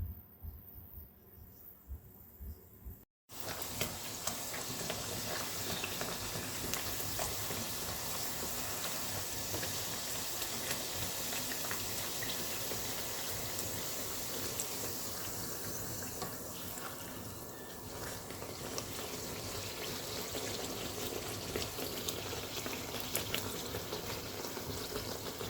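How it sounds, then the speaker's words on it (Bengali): Dal-stuffed puri frying in hot oil, a steady loud sizzling and bubbling hiss that starts just after a brief quiet moment and carries on without a break. "গাইস দেখছেন এরকম বাছতে হবে তেলে পুরিটা।"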